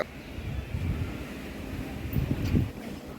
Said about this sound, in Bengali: আস্তে আস্তে হাওয়া বাড়তেছে।